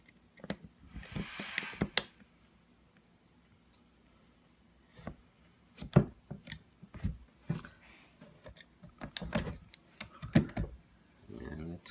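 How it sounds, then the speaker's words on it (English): Sharp, irregular snips and crunches of Open It utility scissors cutting through a stiff plastic bin, close by, with pauses between cuts and some talking. "We use Open It utility scissors."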